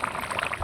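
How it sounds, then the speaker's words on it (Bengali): Chicken and potato curry broth reaching a boil in a pot, a brief, steady bubbling hiss heard alone and fairly quiet. "বলক উঠে গেছে।"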